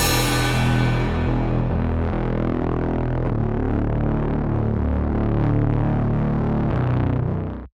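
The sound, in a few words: mix channel with straight distortion effect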